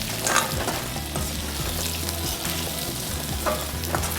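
Papaya pieces frying in oil with garlic and ginger give a loud, steady sizzle, with stirring and a few brief scrapes, and no voices.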